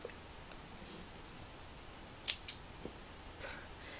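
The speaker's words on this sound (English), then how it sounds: "I kind of want this to go down a little more, so I just cut accordingly" Scissors snip through fabric strips while a shredded tank top is being made, with two quick crisp cuts close by against a quiet room. No voices are heard.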